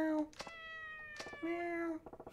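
In Yakuza 4 Remastered, a cat meows two drawn-out times, clear and close, with short soft thuds or taps between and after the calls and no talk over them.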